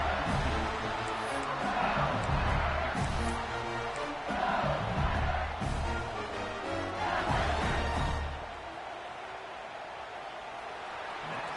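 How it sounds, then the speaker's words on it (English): A football stadium crowd at a Commanders game roars, yells and screams continuously under a broadcast commentator's voice, then the noise drops to a lower, steady crowd murmur near the end. "they are on their feet, yelling, screaming"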